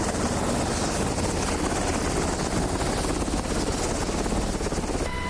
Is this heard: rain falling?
no